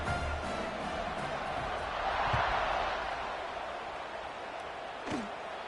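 Football stadium crowd during a kickoff: a dense, steady roar of many voices that swells briefly in the middle and then settles, heard as a broad wash of distant cheering and chatter.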